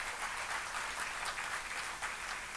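Faint, distant audience applause at a political party conference, a steady wash of clapping that holds even throughout its brief span.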